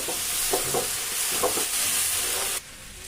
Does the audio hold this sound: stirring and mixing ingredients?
yes